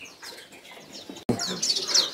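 A hill prinia, an untrained wild-caught bird offered for sale, gives scattered high chirps and tweets, with a sharper, louder burst of calls in the second half of a short, close recording.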